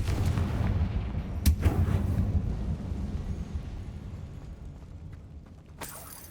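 Confringo spell blasts in the Hogwarts Legacy video game, deep rumbling booms with a couple of sharp cracking impacts and a fading low roar, fairly loud and without voices.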